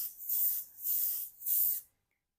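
Three short bursts of an aerosol makeup setting spray, each a sharp, steady hiss, evenly spaced, then silence.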